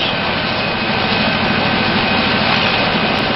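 Loud, continuous rotor and engine roar with a dense, unbroken wash of noise, close by and steady for the whole stretch.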